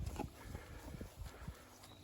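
Horse hooves clip-clop in a steady walking rhythm on a farm, close by, with soft thuds repeating over low background noise and no talk.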